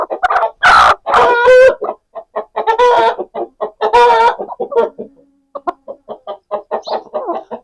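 Aseel hen walking with a chick gives a run of close, loud clucks and short calls in uneven bursts, with a brief pause partway before the clucking resumes, no talk over it.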